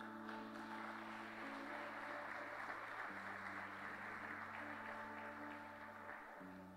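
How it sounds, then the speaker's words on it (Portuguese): A church congregation applauds in a steady wash of clapping that lasts several seconds, while sustained organ or keyboard chords play underneath and the clapping tapers toward the end. "Você pode aplaudir Jesus?"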